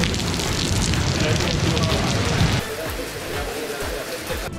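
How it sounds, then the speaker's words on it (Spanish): A sudden heavy tropical downpour at an all-inclusive resort in Punta Cana roars steadily and close as a dense wash of rain, then drops to a lighter patter with softer drips. "Mirad qué manera de llover en un momento, ¿eh?"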